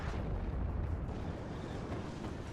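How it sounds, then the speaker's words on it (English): Continuous rumbling battlefield din of artillery fire in the Cold War real-time strategy game WARNO, a dense low roar of distant booms blending together at steady loudness with no talk. "Seeing a lot of artillery now from air over here."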